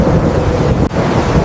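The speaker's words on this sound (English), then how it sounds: "The wind is getting cold." Strong wind roars steadily, buffeting the microphone with a low, rumbling rush and one brief dip.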